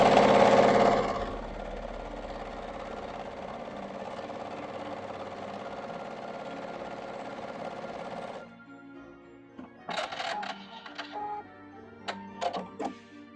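Pieces of quilt fabric are stitched on a sewing machine in a steady whirring run that stops abruptly, followed by a few short bursts of clicking and handling noise.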